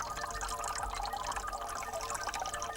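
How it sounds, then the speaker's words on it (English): Water streams out of three holes punched in the side of a can, a continuous splashing and trickling with faint dripping, steady throughout at moderate volume. "Here's the special can full. 3 holes in the side. And why does the water flow out like that?"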